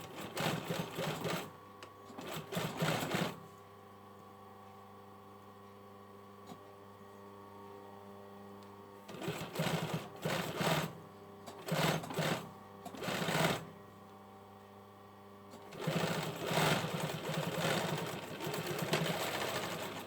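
A sewing machine top stitching contrast trim on a hoodie pocket opening runs in several short bursts of steady whirring, alternating with quiet pauses and a low constant motor hum, close and without talk.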